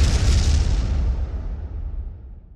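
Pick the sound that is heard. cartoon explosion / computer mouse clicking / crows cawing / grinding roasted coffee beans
cartoon explosion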